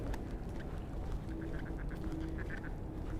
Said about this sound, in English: We gotta get the picture with the ducks in it.